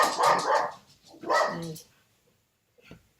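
Two bursts of loud, close dog barking, each a quick rough volley, then quiet with a faint knock near the end.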